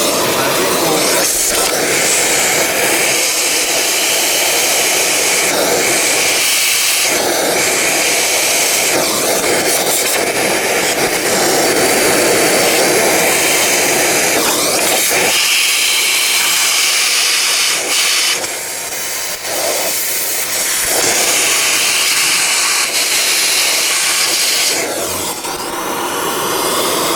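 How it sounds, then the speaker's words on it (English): Shop vacuum cleaner running loud and close while sucking up small metal debris from a recessed bolt hole, a continuous roaring hiss with brief shifts in pitch and airflow as the nozzle moves. "Okay, and there is my vacuum cleaner."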